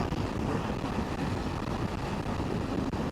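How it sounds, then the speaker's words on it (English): Steady, loud buffeting wind roar across the microphone while riding a 2024 Ducati Multistrada V4S motorcycle on a very windy day, continuous and low-heavy for the whole stretch with no talk. "It's a very windy day."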